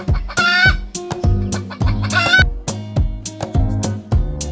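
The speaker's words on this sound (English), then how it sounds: "The sound of chicken is" A chicken clucks in a rapid run of sharp, close calls, with a couple of louder squawking bursts mixed in, alone and without any talk.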